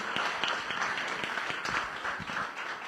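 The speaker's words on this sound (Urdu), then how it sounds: "یہ زوردار تالیاں ان بچیوں کے لیے." A church congregation applauds two girls, steady clapping from many hands that holds at an even level for the whole stretch.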